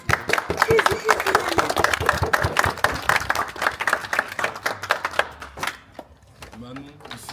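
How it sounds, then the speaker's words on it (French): Clapping and crowd applause for a helper at the farewell of a Belgian house event, a steady dense patter of many hands close by with voices mixed in, thinning out toward the end. "On peut l'applaudir."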